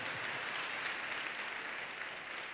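A congregation claps together in a hall at a Christian worship session, a dense, steady wash of applause that fills the whole moment without letup.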